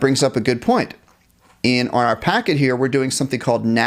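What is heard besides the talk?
No everyday noise stands out behind the speech.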